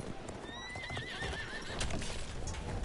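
A horse in the video game Battlefield 1 whinnies once in a long, wavering neigh over steady hoofbeats and a dense, noisy background, with no talking.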